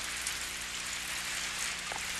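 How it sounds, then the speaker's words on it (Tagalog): Steady rain falls in a cartoon, an even, continuous hiss of drops with no voices over it. "Umuulan!"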